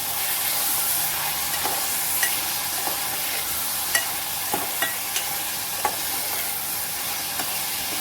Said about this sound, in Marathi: एक दोन मिनटं आपण भाज्या परतून घेऊया